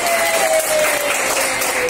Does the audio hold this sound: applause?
yes